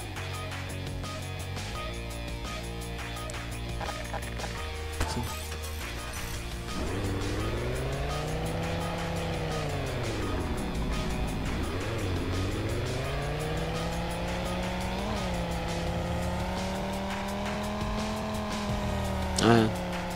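A car drifts in the video game Garry's Mod, its engine revving up and down in long sweeping pitch changes with tire squeal, while a person talks over it.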